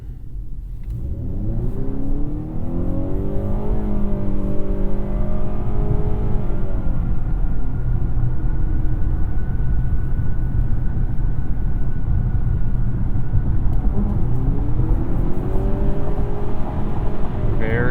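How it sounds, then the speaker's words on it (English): A 2021 Honda Accord Hybrid in sport mode accelerates around an on-ramp, its engine droning loud and steady from inside the cabin, rising and falling in pitch in two sweeping pulls. "Let's throw it into sport mode and hustle around this on-ramp."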